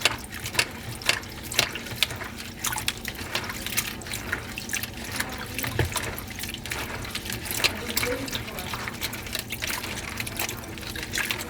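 Spruce roots rinsed in water for dyeing and weaving, giving soft irregular splashes, drips and clicking knocks close by, with a quiet steady background and no clear talking.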